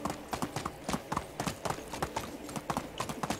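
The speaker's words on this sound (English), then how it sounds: "Run, horsey, run!" Hooves of a horse gallop in the medieval game Medieval Dynasty, a fast, steady clip-clop beat of sharp hoofbeats up close, repeating evenly throughout.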